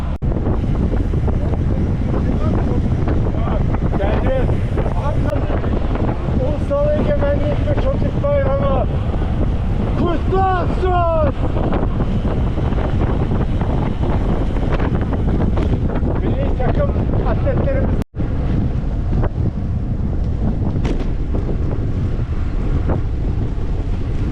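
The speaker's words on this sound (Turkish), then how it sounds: "Gelince çok rüzgar var." Strong wind buffets the microphone with a constant loud roar during a group bicycle tour, while voices speak intermittently underneath.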